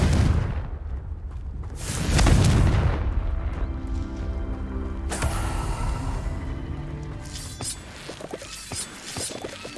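Confringo fire spell bursts in the Hogwarts Legacy video game, booming blasts and crackling impacts layered with creaking, rumbling game effects, loud and continuous with no talking.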